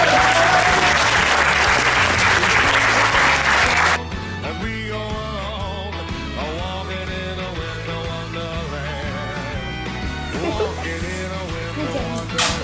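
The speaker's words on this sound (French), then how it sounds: "Les applaudissements quand même!" Loud crowd applause at a Christmas show for children that cuts off abruptly after about four seconds, followed by music with a melodic line over a steady low beat.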